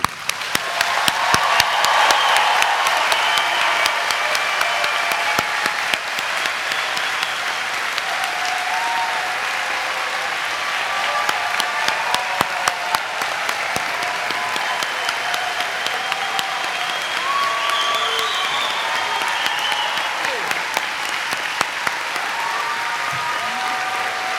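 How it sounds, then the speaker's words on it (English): A large audience gives a final round of applause to the class of 2018 at a business school commencement ceremony, sustained, even clapping with scattered cheers filling the hall. "We will conclude with a final applause for the class of 2018."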